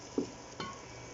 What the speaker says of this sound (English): I'm going to let them fry together for 3 minutes